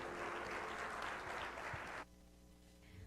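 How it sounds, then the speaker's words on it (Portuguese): A church congregation applauds at a musical performance, a dense steady clatter of many hands that cuts off abruptly partway through, leaving a quiet room tone with faint music. "levante suas mãos e aplauda ao Senhor em nome de Jesus"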